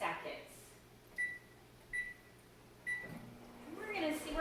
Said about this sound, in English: So I put my soap in the microwave, and I'm going to put it in for